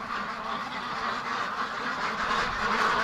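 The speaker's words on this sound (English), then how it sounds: "There's probably going to be 100 ducks in the shed here" A crowded shed holding around a hundred free-range ducks fills with continuous overlapping quacking, a loud, dense, close chorus that swells slightly toward the end, with no speech.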